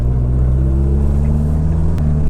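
A Ford Escort engine hums with a steady low droning rumble at an even pitch, close and loud, holding through with a brief dip near the end and no voices.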